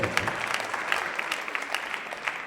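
Loud applause from a gathered crowd during an auction of cradle ceremony items at a Hiremath temple, a dense, steady wash of many hands clapping close by, with no talk over it.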